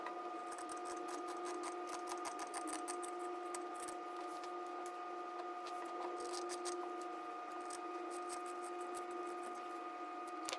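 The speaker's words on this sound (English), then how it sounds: "I'm serging them like this because I don't want it to be too bulky and difficult to sew" A serger overlock machine stitches along the edges of cut denim jean pieces, a steady close mechanical whir with a fine rapid rattle running throughout without pause.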